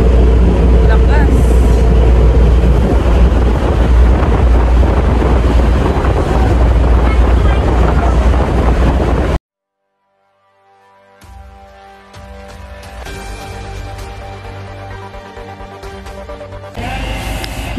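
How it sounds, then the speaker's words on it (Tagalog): Strong wind buffets the microphone on the deck of a RoRo ferry crossing from Batangas to Mindoro, a loud constant roar over rushing water, cut off abruptly before quieter, tonal background noise follows. "Ayan po, sobrang hangin."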